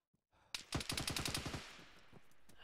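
Automatic gunfire in the military shooter ArmA 3, a sharp burst of about ten rapid close shots in quick rhythm, then a ringing echo fading out.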